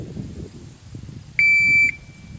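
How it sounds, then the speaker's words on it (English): A shot timer for Glock 17 pistol practice gives one sharp, steady electronic beep lasting about half a second, loud and clear over faint background noise. "When you hear the beep"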